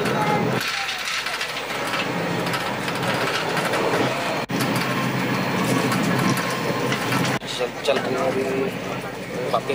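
Train at New Delhi railway station, a loud continuous rumble with rattling and clatter, busy station noise and voices mixed in throughout.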